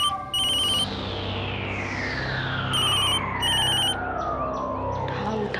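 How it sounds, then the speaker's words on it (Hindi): Telephone ringing in a TV drama scene: bursts of an electronic ringtone repeating at intervals, loud and near, over a dramatic sweeping score. "उठा फोन उठा दी, प्लीज फोन उठा।"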